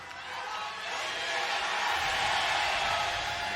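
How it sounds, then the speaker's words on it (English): A home crowd cheers for KT Rolster at a 2023 League of Legends Worlds Swiss Stage match against Weibo Gaming, a broad steady roar that swells and holds loud throughout. "Fan cheers are out here for KT with the home crowd."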